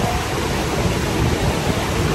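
A mountain creek along a hiking loop rushes with a steady, dense hiss of flowing water, constant and close, with no voices.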